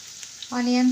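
Onions sizzle in hot oil with cumin seeds, a steady close frying hiss that swells partway through, with a brief voice near the start.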